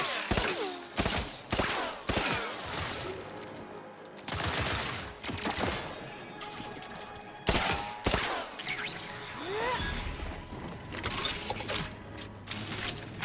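Turret gunfire in The Outer Worlds 2 on very hard difficulty, as repeated bursts of rapid mechanical shots and clattering in separate volleys, loud and close, with robotic whirring between them.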